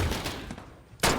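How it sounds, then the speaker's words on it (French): Gunfire in the Modern Warfare video game campaign: several sharp shots crack in quick bursts, with a quieter gap before a final loud report. "Les coups de feu, bien sûr."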